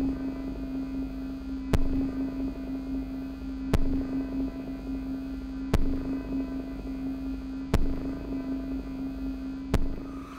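A record player's signal runs through a second delay pedal, giving a steady low electrical hum with a sharp click repeating about every two seconds, each click trailed by murky delayed wash, moderately quiet with no talking.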